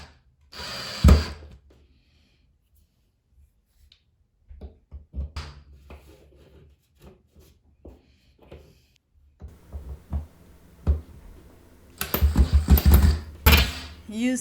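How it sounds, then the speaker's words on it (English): A power drill bores into a wooden wall stud while a towel bar is mounted, with a short burst near the start and a longer, louder grinding run near the end, separated by someone talking and scattered taps and knocks. "we are drilling into the stud"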